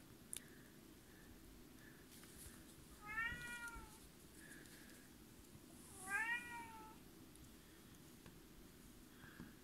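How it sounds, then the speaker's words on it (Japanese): Cat in a shared-house cat room, a leash on its neck, giving two clear drawn-out meows a few seconds apart, fairly close, over a quiet low background hum. "これが、にゃんこ部屋のにゃんちゃんですね"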